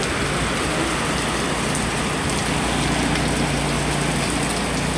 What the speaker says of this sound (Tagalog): Lumakas na ang ulan. Gawa po ng may bagyo.